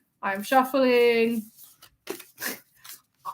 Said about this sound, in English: All right, I'm shuffling.